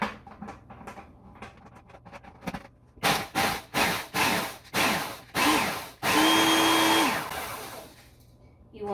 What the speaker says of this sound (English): So I take about 15 Oreos. And we're going to crush those up.